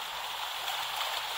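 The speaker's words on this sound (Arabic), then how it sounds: "صوت مي، صوت امواج،" Steady water ambience added as a sea-and-waves background in the Pixaloop app: a continuous even hiss of rushing water with no breaks.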